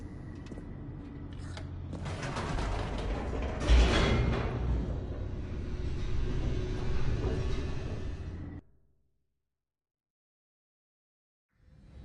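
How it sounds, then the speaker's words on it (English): An elevator descending in the video game The Stanley Parable, a mechanical rumble and whir with a clunk partway through, moderately loud, before it cuts to silence and a faint sound returns at the end. "The elevator raced downward, plummeting towards an unknown fate."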